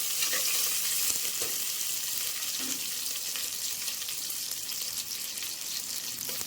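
Green chillies sauté in hot oil for tomato rice, giving a steady crackling sizzle close up, broken by a few soft stirring clinks and with no talking.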